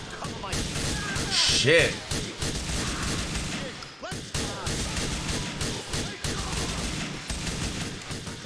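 Gunfire in the video game Grand Theft Auto IV: loud, rapid volleys of shots and impacts crowd together throughout, with a player's voice speaking over the shooting.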